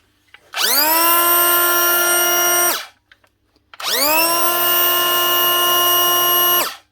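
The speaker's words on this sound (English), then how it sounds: "One Makita cordless planer, the DKP 180." A Makita DKP 180 cordless planer runs up twice, a loud steady high whine lasting about two seconds each time, separated by a short pause in which the motor spins down and stops.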